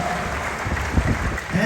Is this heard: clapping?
yes